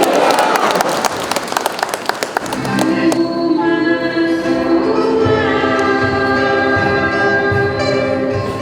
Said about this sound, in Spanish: Fuerte aplauso para Jesús